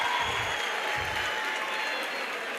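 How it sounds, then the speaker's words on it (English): Sustained applause from a youth-event audience in the Vaal, dense clapping that runs evenly for a couple of seconds with a faint crowd murmur beneath. "Give him a round of applause."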